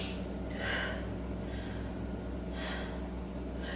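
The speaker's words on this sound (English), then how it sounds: "Take 3 breaths." Slow, deep breaths drawn in and let out during a beginner yoga pose, two soft airy swells a couple of seconds apart over a low steady background hum, close and fairly quiet.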